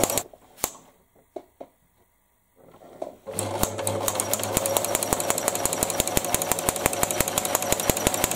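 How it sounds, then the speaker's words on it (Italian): Sewing machine running a classic zigzag stitch with a decorative flower presser foot; after a few faint clicks and a brief pause, the motor starts up and runs loud and steady with a rapid, even needle rhythm, close and alone. "Abbasso e comincio a cucire con il punto zigzag classico"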